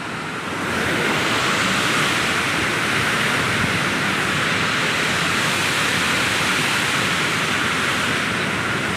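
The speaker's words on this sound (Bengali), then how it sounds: "পানি খুব স্পিডে আসছে" A fast-flowing river near Hetauda, Nepal gives a loud, steady, unbroken rushing roar from start to finish, with no voices.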